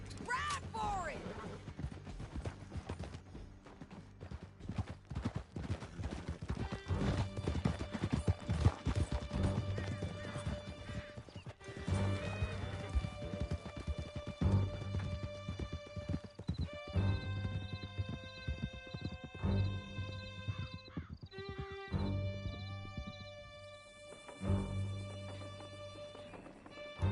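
Horses galloping with steady clip-clop hooves and occasional neighs in the Western video game Red Dead Redemption, riding out of a canyon under a dense musical score, with voices speaking at times.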